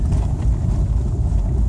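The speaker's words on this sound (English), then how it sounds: "It's a good wind." Strong wind blows hard against the microphone outdoors near a sailing club, making a loud, continuous low rumble with gusty flutter for the whole short stretch.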